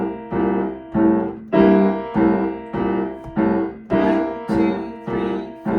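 Repeated piano chords on the one chord of a blues, struck in a steady rhythm over a low, walking boogie bass line, a bluesy pattern played alone without any voice.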